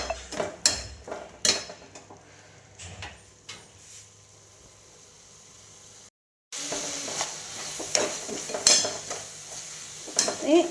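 Chicken varattu with coriander leaves stirred in a pan, giving repeated scraping and clinking strokes of a spoon against the metal at an irregular pace, close and alone with no talk, broken by a short gap midway.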